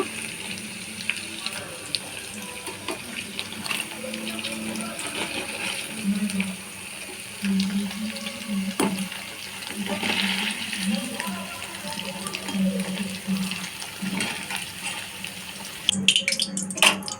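Paneer pieces frying in hot white oil in a home kitchen give a steady, close hiss with scattered pops and clinks across the whole stretch, and brief soft voices come in near the end.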